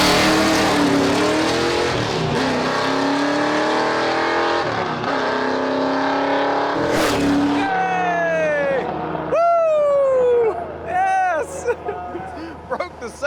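A 632 big block OBS SS truck launches on a drag strip at night, its engine roaring loud and rising through the gears, then trailing off with whooping sweeps as it pulls away and speech follows.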